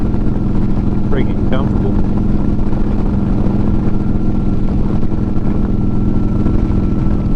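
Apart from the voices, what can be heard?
2009 Harley Road Glide motorcycle cruising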